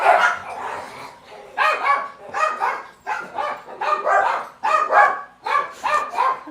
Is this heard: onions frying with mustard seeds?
no